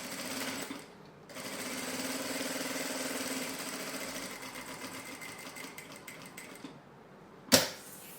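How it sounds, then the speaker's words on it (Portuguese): A sewing machine topstitches fabric in a continuous close run of about six seconds. A short pause comes near the start, and a sharp click sounds as it stops. "Então, eu vou virar a minha peça aqui e vou fazer o meu pesponto."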